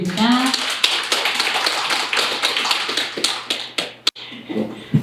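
An audience claps at a social cooperative's event, a dense run of hand claps that carries on steadily for several seconds.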